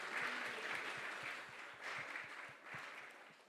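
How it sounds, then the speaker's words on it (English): A temple congregation applauds the sponsors of a Sunday feast, heard as faint, distant, steady clapping that swells and dips in a few waves over a few seconds. "Let us all give a big round of applause to all these sponsors."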